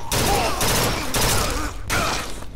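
Gunfire in the video game BioShock Infinite comes as several loud, close bursts of rapid shots separated by short breaks.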